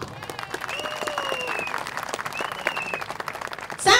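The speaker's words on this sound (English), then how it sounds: "Please give them a round of applause." Applause from the audience at a 2015 general election rally in Radin Mas, dense clapping held at an even level throughout, with a voice audible briefly beneath it.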